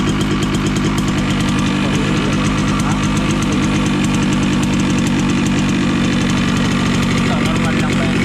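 A first-model RXT 135 Highlander motorcycle engine runs loud and close at a steady idle, with a constant throbbing, rattly drone that continues evenly throughout.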